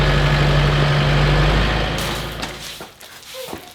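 A Kubota tractor engine idles on a homestead with a steady low hum, then cuts off about halfway through, leaving scattered clicks and rattles as it winds down.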